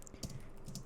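A few soft keyboard clicks from someone typing Python code, close but quiet over a steady low background hum, with no voice.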